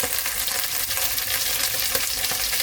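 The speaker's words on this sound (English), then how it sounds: "You add the lamb. So we are using lamb shanks." Cut lamb shanks searing in a pot with browned onions, a dense continuous sizzle with crackling spits throughout, close and loud.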